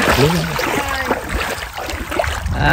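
Water sloshing and splashing as people wade through it, with voices talking over the movement throughout.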